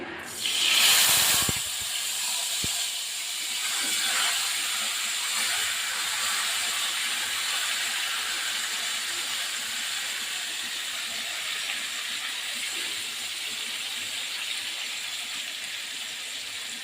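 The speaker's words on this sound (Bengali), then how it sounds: "আমি দেখো ফ্যান প্যানটা বসিয়ে দিয়েছি আমি মাছটা দিয়ে দিচ্ছি" A loud burst of sizzling as Bombay duck fish hits hot oil in a pan, settling into a steady, dense frying hiss that continues throughout.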